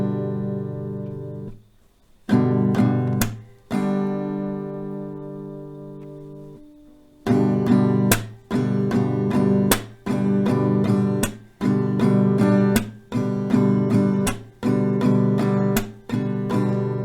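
Steady acoustic guitar strums repeat in a down, down, clap, down pattern, with crisp hand claps punctuating each round.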